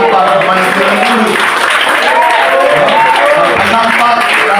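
Church congregation applauding, a loud steady wash of many hands clapping together with some cheering voices mixed in, continuous and close throughout.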